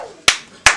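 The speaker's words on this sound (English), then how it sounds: "he has the crowd clap along with him to do this" A battle rap crowd claps along in unison, with two sharp, loud claps evenly spaced a little under half a second apart.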